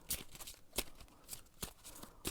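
Tarot cards shuffled in soft, papery bursts, several quick riffles spaced irregularly across a quiet, close background.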